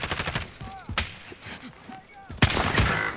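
Sniper rifle shots ring out in the shooter game Warzone, a few sharp cracks with some rapid fire in between, heard under players talking urgently over voice chat.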